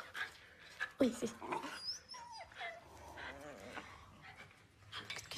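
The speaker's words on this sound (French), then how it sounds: "c'est le chien de ma voisine" A dog yips, whimpers and pants with short barks and whines, fairly faint and nearby, mixed with people talking.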